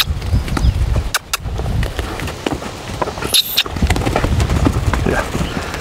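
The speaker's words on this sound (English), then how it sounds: "send him around the pen at a lope so that he can kind of feel it with a full range of motion" A two-year-old colt lopes around a pen, its hooves drumming in a quick rhythmic clip-clop on soft ground at close range. The beats continue throughout with small bumps and rustles, and there is a faint sense of people nearby.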